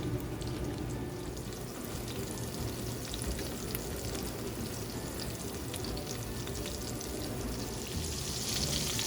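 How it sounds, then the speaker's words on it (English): Salmon fillets sizzle and fry in a pan, giving a steady, continuous crackling hiss that holds at an even level throughout with no talking. "you're going to let each side cook for about 2 to 3 minutes"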